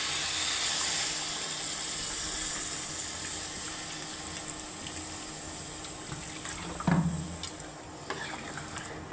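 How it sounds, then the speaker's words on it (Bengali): Water poured into a pot of browned chicken curry, where a steady close sizzle runs throughout and a brief splashing gush breaks in near the end. "এখন পানি দিয়ে দেব।"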